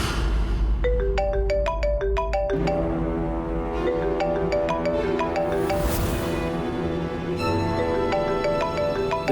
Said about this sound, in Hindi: ट्विंकल के फोन बा।